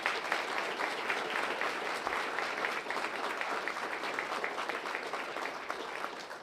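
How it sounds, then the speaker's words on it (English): An audience at a Yonkers police promotion ceremony claps for the police color guard, dense sustained applause filling the room at an even loudness from start to finish. "Let's give them a round of applause."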